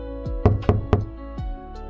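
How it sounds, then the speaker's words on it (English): Three quick firm knocks on a bedroom door, close and clear, with a soft dragging swish before and after. "There's a knock at the door."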